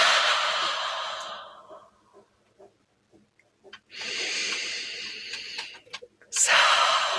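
Deep, slow meditative breaths, long airy inhales and exhales with short pauses between, close and soft, heard alone.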